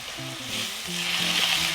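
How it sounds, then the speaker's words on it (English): Risotto cooking in a pan with stock being ladled in, giving a steady soft sizzle and simmering bubble under a continuous stirring motion, close and moderately quiet, with no talk. "adopt this continuous stirring motion"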